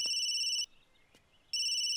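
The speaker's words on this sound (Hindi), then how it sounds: "सोनिया की जहां शादी कैंसिल हुई थी वहीं से फोन आ रहा है।" An electronic telephone ring sounding twice, a steady high trilling tone with a clear silent gap between the two rings, fairly faint.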